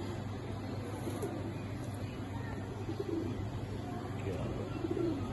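Lahori pigeons kept by fanciers give soft, low cooing calls over a quiet background murmur, the coos recurring at a moderate distance.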